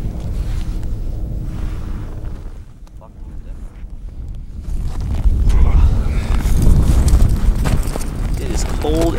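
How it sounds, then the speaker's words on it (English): Cold wind buffets the microphone on a frozen lake during ice fishing, a low rumbling roar that strengthens midway, with someone talking over it. "It is cold and windy out here."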